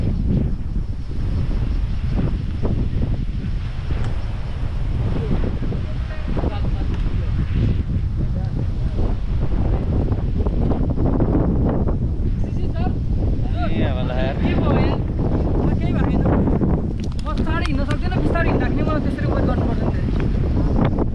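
Wind gusting on a mountain trek route from Chitwan toward Chandanbari near Gosaikunda in Nepal, a steady low buffeting rumble across the microphone throughout, with voices talking over it at times.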